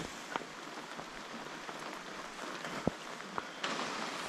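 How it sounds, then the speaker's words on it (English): Steady rain falls on a rainy summer day at a cabin, a continuous soft hiss with scattered louder drips and taps, with no talk. "How do you like this rain?"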